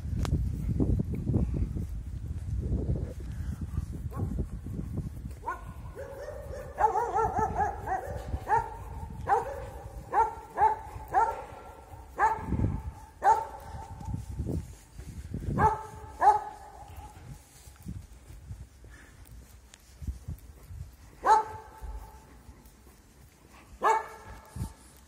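A watchdog living at a house on a street in Truskavets barks repeatedly in short, irregular bursts at moderate distance, over faint outdoor street ambience.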